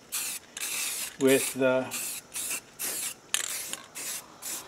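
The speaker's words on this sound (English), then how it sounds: "Now I'm going to spray in this whole area" Spray can laying down a sand-colored base coat on a Jimmy for camo painting, in repeated close hissing bursts of a second or so each, with someone briefly talking between them.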